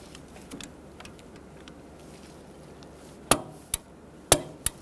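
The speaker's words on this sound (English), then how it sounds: "now I have my torque wrench set for 34 foot-pounds. And we're going to tighten this down." A torque wrench tightens an upstream O2 sensor on a 2000-2007 Ford Taurus 3.0L V6, giving four sharp, distinct clicks near the end over quiet background hiss.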